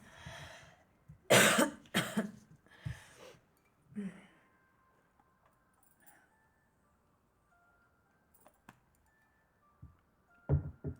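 A person coughs several times in a quick burst of harsh, close hacks, then a quieter throat clear, followed by near silence with faint small sounds and another cough at the end.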